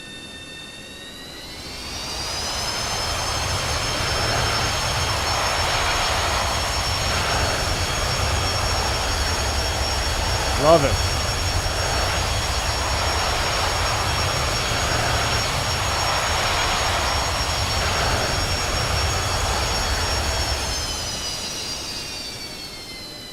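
Three Boeing 727 jet engines spool up into reverse thrust in a flight simulator, a loud sustained roar with rising whine that holds steady, then winds down; a brief voice comes in midway.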